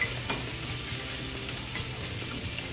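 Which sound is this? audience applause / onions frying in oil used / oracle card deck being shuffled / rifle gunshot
onions frying in oil used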